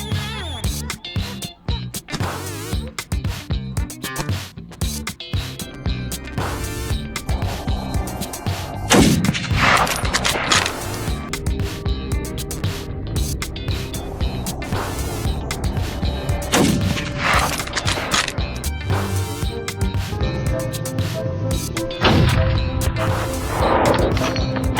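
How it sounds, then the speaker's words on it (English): Rifle shots fired at a wild boar on a hunt: sharp, loud bangs that repeat irregularly over a dense background with sustained tonal layers. "the gunshot thundered through the stillness"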